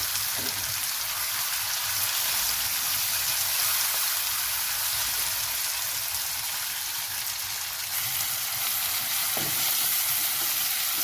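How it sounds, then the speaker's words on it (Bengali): Chopped green chilies stir-fry in hot oil over a low-medium flame for a tamarind chili pickle, a steady, dense sizzle that runs unbroken throughout with faint occasional stirring taps. "এটা নাড়ানোর সঙ্গে সঙ্গে দিয়ে দিলাম কেটে রাখা কাঁচা লঙ্কাগুলো"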